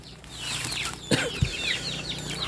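Free-range domestic chickens fed herbal feed cluck softly on a cold, very windy day, several short calls close by over a steady breezy background, with a couple of brief louder thumps.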